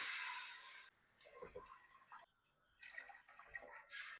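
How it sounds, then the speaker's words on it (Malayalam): Water splashes and trickles into a cooking pot holding two and a half glasses of rice in a few short bursts, with a louder rushing pour at the start and end. "ഇനി ആവശ്യത്തിന് വെള്ളം ഒഴിച്ചു കൊടുക്കാം"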